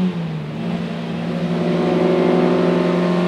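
A 1967 Nomad MK1 GT car engine revs hard and climbs steadily toward 6000 rpm, a loud, continuous rising drone heard close from inside the car, with no talking over it.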